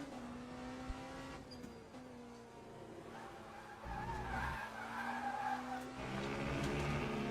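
Race car tires squealing under late braking in the Le Mans Ultimate sim, a sustained tonal skid over engine drone that shifts pitch and swells louder toward the end, with no talking.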